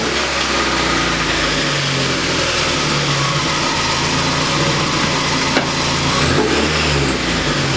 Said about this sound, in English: turn the car on, let it run for a bit